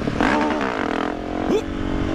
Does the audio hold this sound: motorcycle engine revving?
yes